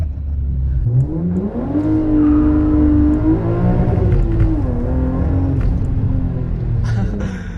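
A 317 hp BMW M3 E36 accelerates hard through Warsaw streets, its loud, close engine note climbing steadily, holding high, then dipping and climbing again as the car keeps pulling.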